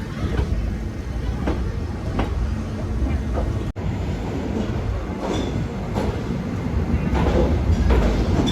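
A train stands at Rajkot station platform, a passenger express from Veraval to Gandhinagar, with a dense, steady rumble of railway and station noise and faint clanks throughout, and a sharp click partway through.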